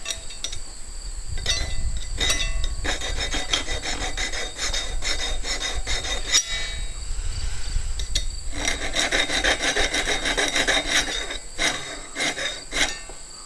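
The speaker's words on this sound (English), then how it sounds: "Now this tooth is going to get sharpened to the outside." A file sharpens the teeth of a hand saw, close and rasping in repeated back-and-forth strokes with short pauses between, a gritty metallic scrape with no voices.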